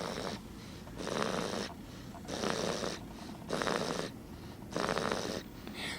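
A person snores loudly and steadily, with a repeating cycle of rasping inhales about once per second and quieter pauses between them, close by in a quiet room.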